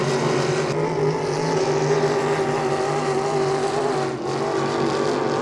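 H350 hydroplane racing boats roar steadily in a close race at St-Félicien, one boat overtaking another on the outside, the engine drone loud and sustained with a brief dip near the end.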